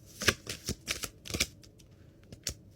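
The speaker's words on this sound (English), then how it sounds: "I must have accidentally shuffled it back in." A deck of playing cards is shuffled in several quick riffle bursts, sharp close fluttering snaps repeating and then thinning out, heard alone without talk.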